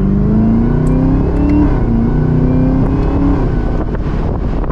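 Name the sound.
supercharged sports car exhaust revving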